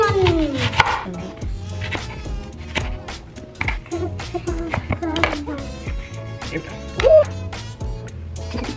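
A knife chops onions and peppers for chicken tacos on a board, with quick, irregular taps close by. Voices talk over the cutting, and a dog's sounds may also be mixed in.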